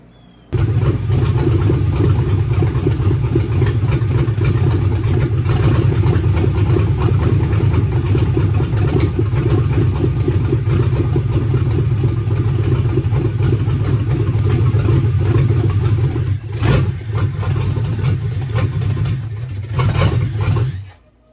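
A 283 small block Chevy V8 runs in an Oldsmobile Cutlass without its headers, a loud, steady idle rumble close by for about twenty seconds, dipping briefly near the end before cutting off.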